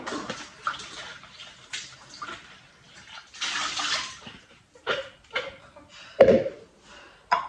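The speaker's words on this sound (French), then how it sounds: "je vais repasser un coup pour laver là-dedans" Running water rinsing and washing something in a sink or basin, with intermittent splashing gushes, a sustained pour and a few sharp knocks, close by and with no talking.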